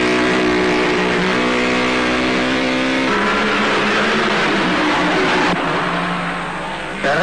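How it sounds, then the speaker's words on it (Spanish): Ferrari 2500 race car with a Lancia-derived eight-cylinder engine revving loud and close, its pitch climbing and shifting in surges before easing off near the end. "Ferrari 2500, motor derivado del Lancia, 8 cilindros, 8000 vueltas"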